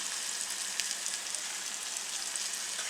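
Asafoetida and turmeric hit hot ghee with a steady, bright crackling sizzle that holds evenly from start to finish, close and unbroken, with no voices.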